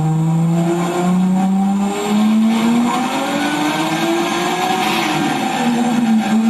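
A newly set up tuned car runs on a dyno at Dyno Extreme, its engine drone climbing steadily in pitch with a rising whine, loud and continuous with no voices.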